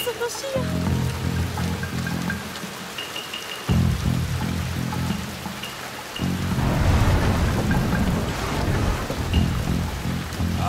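Rain and thunder in the video game Shadow Tactics, with a continuous wash of rain under rumbling thunder that swells louder in the second half, while voices speak over it.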